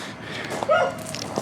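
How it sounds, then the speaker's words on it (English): A dog gives a single short whimpering yelp amid faint street ambience at a Nong Khai hotel in Isaan, Thailand, fairly close and brief rather than a run of barks. "There's the dogs."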